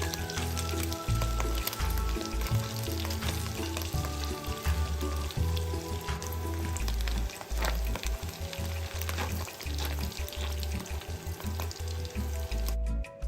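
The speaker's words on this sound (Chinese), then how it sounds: "再倒入香菇爆炒，切片后的腊肠也稍微煸一煸" Dried shrimp, shiitake mushrooms and sliced Chinese sausage stir-fried in a hot wok, giving a loud, steady sizzle and crackle with a rumbling low base and scattered scraping stirs throughout, close up with no talk.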